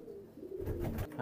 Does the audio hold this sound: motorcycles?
no